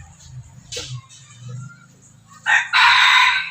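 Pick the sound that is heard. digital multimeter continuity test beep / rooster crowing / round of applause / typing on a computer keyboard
rooster crowing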